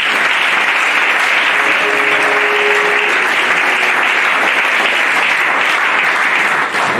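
A church congregation claps and cheers in sustained, dense applause filling a hall, loud and continuous for the whole stretch.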